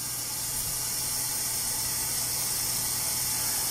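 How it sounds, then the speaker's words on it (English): Steaming hot water pours steadily into a ceramic shaving scuttle, making a continuous loud hiss and rush with no pauses. "I fill it back up with steaming hot water."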